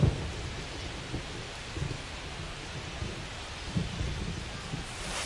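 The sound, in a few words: rain and thunder during a baseball video game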